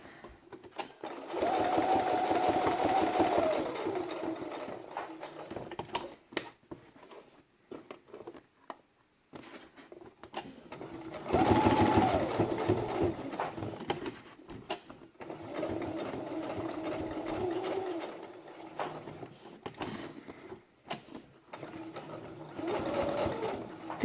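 A sewing machine straight-stitching through felt for a quiet book page, a steady close hum running in several separate bursts with brief pauses between.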